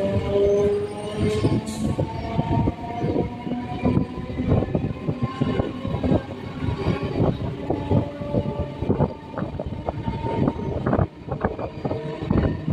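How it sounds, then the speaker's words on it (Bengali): A local train pulls out of Khardaha station on a Barrackpore to B.B.D. Bag line, its wheels clattering and rattling loudly and continuously as it moves, with a brief high whistle early on. "ট্রেন এখন খড়দহ স্টেশন ছেড়ে বেরিয়ে যাচ্ছে।"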